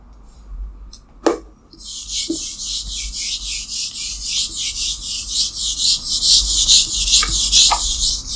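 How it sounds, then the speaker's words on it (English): Writing being rubbed off a board with an eraser, a string of close, rapid scrubbing strokes in a steady rhythm after a few light knocks, no talking. "I'm just gonna erase this off quickly"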